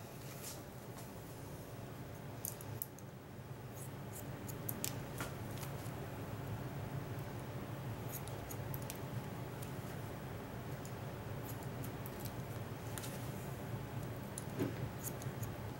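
Scissors snipping through a woman's hair during a base cut and quarter-inch trim in a salon, with sharp little clicks coming in irregular bursts, close by, over a steady low background hum.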